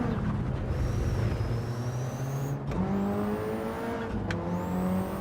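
A Mitsubishi race car engine in a racing video game revs steadily and loudly, with rising whines cut by gear shifts at regular intervals, continuous and close.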